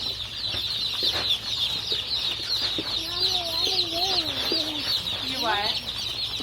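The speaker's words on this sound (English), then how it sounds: "That's chicken." Pastured poultry chickens cluck and squawk in short, rising and falling calls against a constant high insect-like hiss, with a brief spoken remark nearby.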